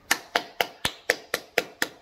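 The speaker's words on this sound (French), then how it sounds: "On applaudit." Eight sharp, evenly spaced claps from a small group of listeners at a religious teaching session, crisp and close with brief gaps between them, no voices over the clapping.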